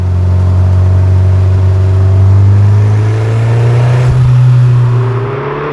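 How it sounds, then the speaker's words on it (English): A JDM Toyota MR2 SW20's turbocharged engine revs steadily and loudly, holding a deep droning note that rises and falls slightly, with a whirring turbo tone over it. "The turbo is the closest thing to the cabin, so it just makes all the right noises."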